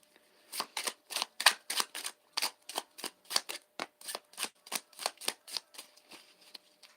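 Playing cards shuffled in a rapid series of crisp riffles and flicks, about fifteen sharp bursts in a steady rhythm, close and fairly quiet, with no talking.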